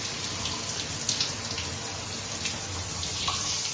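Steady broadband rush of water pouring from a Grohe thermostatic shower mixer valve just after replacement, constant and close with no pauses or speech.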